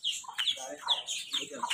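A chukar partridge and chickens kept in a cage give repeated short clucks and high chirping calls in a quick, irregular series, close and moderately loud.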